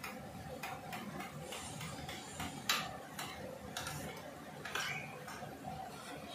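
A spoon stirring yogurt with salt and chilli in a bowl for garlic chutney, giving faint, irregular clinks and light scraping ticks close by.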